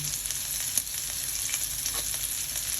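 Garlic frying in olive oil and rendered pork fat for a Filipino mixed vegetable and pork dish, a steady bright sizzle with faint scraping and stirring, close and continuous with no talk.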